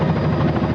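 A helicopter flying low over flood waters during the 1994 southwest Georgia flood makes a loud, steady, close rotor and engine roar that fills the short moment without any break.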